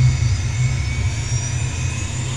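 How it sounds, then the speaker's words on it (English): Aircraft engine running up toward full revs in Microsoft Flight Simulator, a steady, loud low rumble with a constant high whine layered above, unbroken and with no talk. "I'll do the engine run up now"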